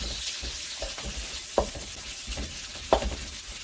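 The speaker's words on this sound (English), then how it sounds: "You add the onions and I will saute it for a little bit." Onions sauté with browned garlic in a pan for pork adobo, giving a soft steady sizzle close up, with two sharp spoon or spatula knocks as they are stirred.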